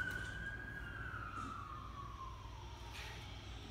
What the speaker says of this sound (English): I had to wait for the ambulance to go by.